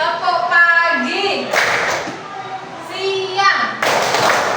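Primary schoolchildren in an Indonesian classroom doing a clapping game, sharp bursts of group hand claps alternating with children chanting together, loud and close.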